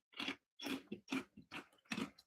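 Crisp bites into a crunchy, bacon-strip-shaped chicharron snack, five sharp crackling crunches in a quick uneven rhythm, close and clear with short silent gaps between.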